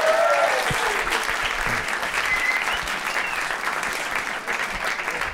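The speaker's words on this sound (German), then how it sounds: "Schenk dir bitte einen riesen Applaus" Steady, dense audience applause at a German stand-up comedy show, full and close, holding evenly for the whole stretch with a few whistles or shouts mixed in.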